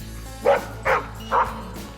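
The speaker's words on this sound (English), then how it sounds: "don't bark at me" Three sharp barks from a dog among a golden retriever and two labradors, evenly spaced and close, loud and alone with no talking.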